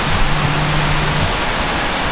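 Steady rain falls in an even, continuous hiss at a rural countryside property as a storm arrives, dense and close with no talk over it.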